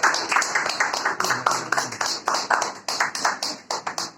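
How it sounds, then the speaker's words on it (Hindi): An audience claps to welcome a guest onto a stage, a dense, steady burst of many hands applauding throughout with no voices over it. "तालियों के साथ उनका स्वागत करिए।"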